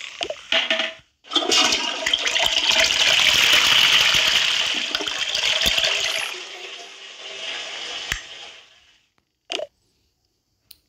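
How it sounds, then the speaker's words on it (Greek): A household toilet flushes loudly and close, its strong rushing gush running for several seconds before fading into a quieter refill trickle, with a few faint knocks afterward. "Έτσι να πατήσω καζανάκι."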